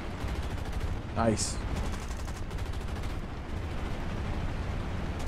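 Rapid continuous gunfire from aircraft gunners in the War Thunder video game, a dense rattling stream throughout, with a brief engine whine passing and one short spoken word.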